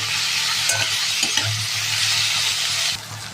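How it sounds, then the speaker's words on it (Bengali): Green chilies and chopped tomatoes fry in hot oil with salt in a Bengali home kitchen, a steady close sizzle with occasional stirring scrapes, alone without talk. "তেলের পর 4টে কাঁচা লঙ্কা আর টমেটো কুচিগুলো দিয়ে দেবো, নুন দিয়ে দেবো, ভালো করে ভেজে নেব।"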